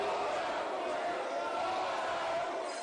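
A parliament crowd in the plenary chamber boos and shouts at Eduardo Cunha, a dense continuous roar of many voices with no break.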